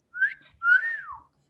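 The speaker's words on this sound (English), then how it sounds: "Whistle." A person whistles two short rising-and-falling tones, a brief note followed by a longer sliding one, clear and close with no talk over it.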